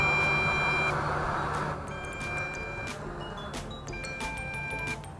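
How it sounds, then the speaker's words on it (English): A steady electronic beep tone from an RC transmitter holds at an even pitch alongside other faint beeps and a low mechanical hum, moderately quiet, after a drone with a 2300mAh battery lands. "the transmitter is doing a steady beep"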